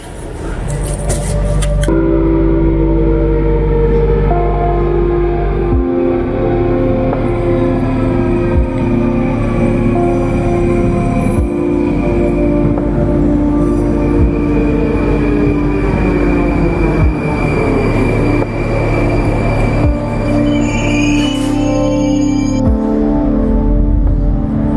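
A Moscow metro train rumbles loudly along the track, with rhythmic clacks from the wheels and whining tones as it speeds up, then a brief high squeal near the end.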